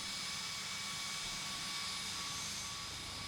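Steady, droning hum of a Cessna aircraft engine in the Tower! Simulator 3 air traffic control game, a continuous whining tone over broadband rumble with no talking.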